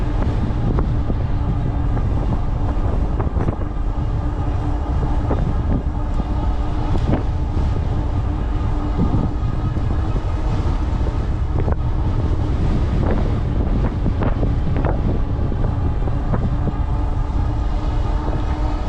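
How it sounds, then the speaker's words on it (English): Heavy, constant wind buffets the microphone during an e-bike ride on outdoor trails, a dense low roar with occasional sharper gusts and knocks throughout. "It's so windy out here, I'm having to use a little bit of the throttle to cut against the wind"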